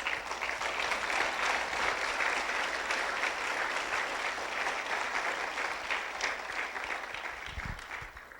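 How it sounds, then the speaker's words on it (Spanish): Congregation clapping in a church service, a dense, sustained round of applause from many hands that carries on evenly throughout and eases slightly toward the end. "Dale palmas a Jesús"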